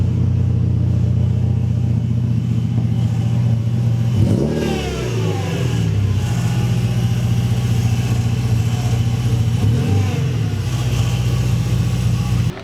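A Volkswagen MK3 car pulls up at a garage, its engine rumbling steadily and loudly nearby, with a couple of revs and shifts along the way.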